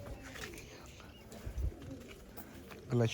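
Pigeons coo softly nearby among a flock of more than eighty, with low murmuring calls over faint background noise and a brief voice at the end.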